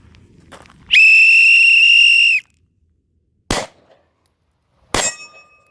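A sharp whistle blast of about a second and a half starts a pistol shooting drill with a Sig P365 compact 9mm, followed by two loud, separate gunshots a second or so apart.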